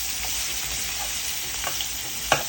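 Onions fry in a hot pan for tomato rice. A loud, dense sizzle hisses continuously, with a couple of soft clinks near the end.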